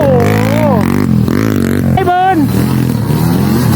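A Honda Sonic motorcycle racing on a wet track in the rain, its engine rising and falling in pitch, heard under a loud, excited commentator talking throughout.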